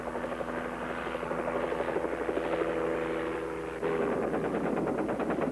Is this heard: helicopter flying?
yes